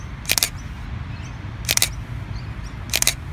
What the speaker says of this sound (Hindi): अगर मैं दबाऊंगा तो शटर है वो ऑपरेट होगा